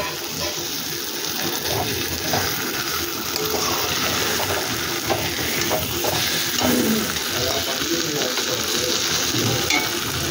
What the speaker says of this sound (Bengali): এবার একটু জল দিয়ে দেবো, সামান্য জল দেবো, কষা কষা হবে তো।